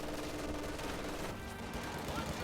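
Grenadiers fire in a strategy game battle, a steady distant crackle of continuous gunfire that blurs into a rolling roar, with no clear single shots standing out.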